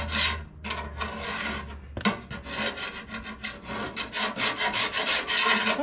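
A carbide scraper drags over paint on an old Axelson lathe in short, raspy strokes, close and fairly quiet, repeating in an irregular scraping rhythm.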